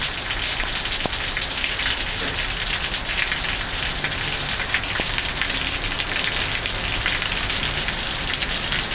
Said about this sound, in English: Santa Clarita storm.